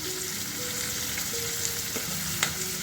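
Tomatoes, green chilies and capsicum fry gently over a low flame, a steady close sizzle with soft stirring clinks and one sharp tap near the end; no one speaks.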